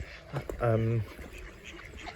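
Ducks quack at a small village pond near a pub in Fishbourne, Sussex, with one clear nasal call standing out over soft outdoor background noise, moderately near.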